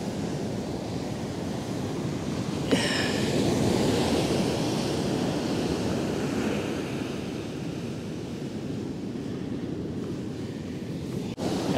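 Ocean surf rolls in at the Kilcunda beach, a continuous loud roar of breaking waves mixed with wind buffeting the microphone, with one brief sharper noise partway through.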